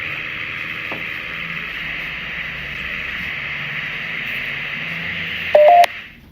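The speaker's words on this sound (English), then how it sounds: "I think it's the closeness detection beep keeps going off." An electronic warning beep from a ghost-hunting meter's proximity detector sounds near the end, a short loud tone over steady hiss in an abandoned house.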